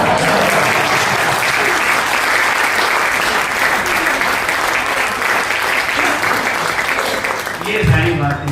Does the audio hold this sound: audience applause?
yes